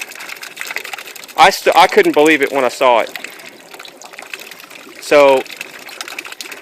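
Water gushes from a 3/4 inch pump into a farm water tower: a steady rushing hiss runs through the whole stretch while someone talks over it in bursts.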